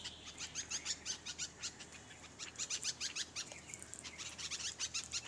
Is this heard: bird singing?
yes